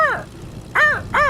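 A voice imitates a hawk or eagle cry with three sharp, loud, descending screeches, one followed by a pause and then two close together.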